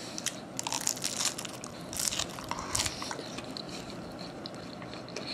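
Crisp, crunchy bites into a flaky Burger King apple turnover, a few sharp crackling crunches over steady close chewing with no talking.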